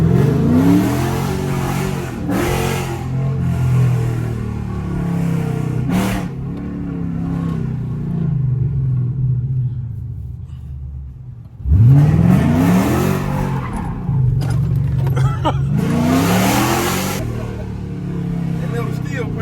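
A 5.7 Hemi Chrysler 300 revs hard while racing a 6.1 Hemi SRT8 Chrysler 300, with repeated loud rising surges and a deep, throaty drone nearby, while people talk over it.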